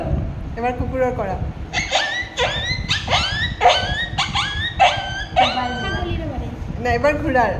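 A voice imitates a dog barking, giving a rapid run of sharp, yelping barks and yips, close and loud, repeated about a dozen times.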